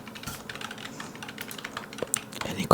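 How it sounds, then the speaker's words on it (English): Rapid typing on a computer keyboard, close and clear, irregular clusters of key clicks with a few sharper taps near the end. "You constantly type at the keyboard."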